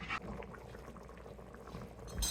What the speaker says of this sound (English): We are now at a good boil.